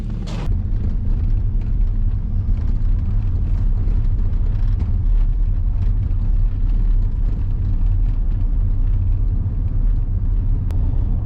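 Large tank engine driving steadily toward the woods, a continuous loud low rumble and motor drone with no pauses, close by and alone without talk.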